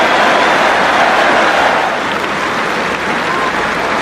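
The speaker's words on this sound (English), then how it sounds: "Big cheer goes up." A big cricket crowd roars and applauds after England take a wicket against Australia in an Ashes Test, a loud, sustained wash of cheering that carries on for several seconds.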